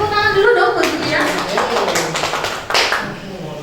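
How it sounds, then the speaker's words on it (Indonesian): A classroom or meeting audience claps for a teacher, Bu Dian, giving a burst of scattered hand claps mixed with voices talking over them. "Tepuk tangan dulu dong buat Bu Dian."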